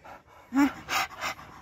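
A dog pants in a cold place, making several quick, breathy pulses, soft and close, with a brief whine-like tone at the start.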